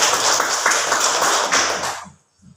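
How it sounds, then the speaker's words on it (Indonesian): Classroom applause from a group of students, dense and steady clapping that holds for about two seconds, then stops abruptly, leaving a brief low murmur. "tepuk tangan"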